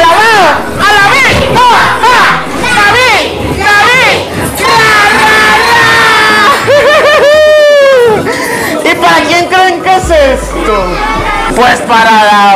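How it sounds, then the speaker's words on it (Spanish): A crowd of partygoers at a child's birthday celebration with a clown cheers and chants loudly and rhythmically in unison, voices close and energetic, with shouting and laughter mixed in. "¡Vamos a echarle una porra a David!"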